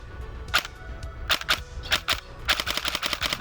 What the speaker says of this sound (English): On semi-auto, if you pull the trigger once, the gun will fire, and when you release it,